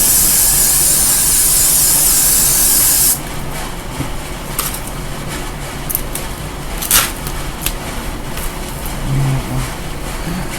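A loud, steady hiss of aerosol spray on a wig runs for about three seconds, then cuts off, leaving faint rustling and soft handling noises.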